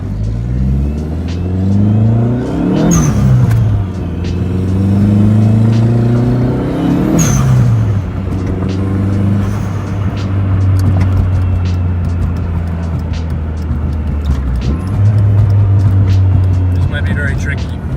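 A turbocharged Dodge SRT4 with an HKS blow-off valve pulls hard through the gears on a wet road, engine droning and rising loudly, with sharp valve whooshes at each shift and a voice talking over it.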